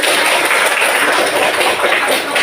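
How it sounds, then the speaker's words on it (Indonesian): A classroom of students claps together, a dense steady patter of many hands that stays loud and even throughout without any break. "Tepuk tangan dulu semuanya"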